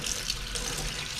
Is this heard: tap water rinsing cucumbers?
yes